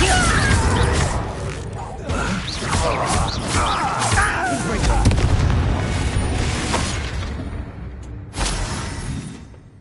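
Bombarda blasting spell from the game Hogwarts Legacy, heavy booming explosions and crashing debris rumble across the scene with loud bursts, while a voice speaks over the action.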